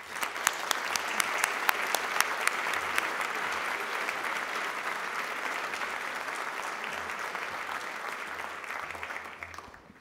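Audience applause at a St. Thomas Day celebration at the University of St. Thomas, welcoming President Julie Sullivan, dense steady clapping from a large indoor crowd lasting about ten seconds before fading out.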